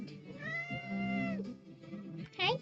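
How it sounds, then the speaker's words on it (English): Bibble, a pet cat waiting to be let in, gives a drawn-out meow close by, then a short high chirp-like mew, with a little soft background noise between the calls. "It's a Bibble cat."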